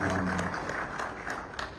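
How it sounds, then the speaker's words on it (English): Audience applause at a green bond milestone event, honoring financial sector regulators; a dense, steady wash of clapping from a crowd, moderately loud and continuous, with faint voices mixed beneath. "a round of applause to financial sector regulators"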